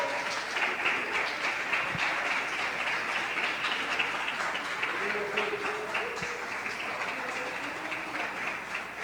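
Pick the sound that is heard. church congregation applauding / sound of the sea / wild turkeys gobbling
church congregation applauding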